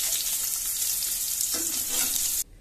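Paneer pieces frying in hot oil in a kadhai, a steady bright sizzle throughout that cuts off abruptly near the end.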